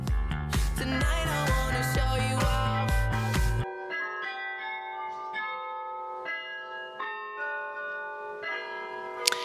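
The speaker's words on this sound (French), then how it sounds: "Entendez-vous ces douces notes de musique? Elles proviennent du carillon Saint-Jacques" The Bollée carillon bells of Saint-Jacques church in Châtellerault ring out a melody, first in a dense burst of struck tones, then in slower, clearer notes that ring and overlap as they fade.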